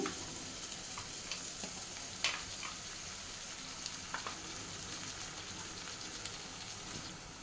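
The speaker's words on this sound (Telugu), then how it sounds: "ఇక్కడ అల్లం, పచ్చిమిర్చి, వెల్లుల్లి పేస్ట్ వేసేస్తున్నాను." Ginger, green chili and garlic paste fries in a pan for Telugu palak curry, giving a steady, faint sizzle with small scattered crackles and pops throughout.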